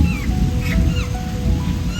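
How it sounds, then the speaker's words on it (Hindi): Thunder rumbles low and steady through falling rain outdoors in a hillside village, with birds chirping in short whistled calls above the continuous downpour. "बैकग्राउंड में बादल गरज रहे हैं और पंछी चहचहा रहे हैं"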